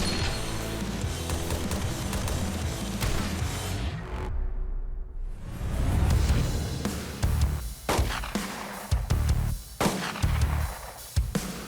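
Rifle volleys of a patriotic 21-gun salute at a sporting arms museum ring out as loud, sharp cracks with echoing tails. They come in irregular bursts, with a brief quiet gap partway through.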